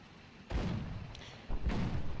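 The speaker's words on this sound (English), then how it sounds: "Hearing some gunfire, sounds like 37mm autocannon" 37mm autocannon fire in the War Thunder tank game, two heavy thumping bursts about a second apart, moderately distant and without speech.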